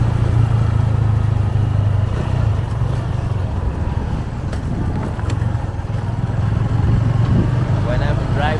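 A car driven through São Conrado gives a steady, loud low engine rumble and road drone that runs without a break, with voices faintly mixed in.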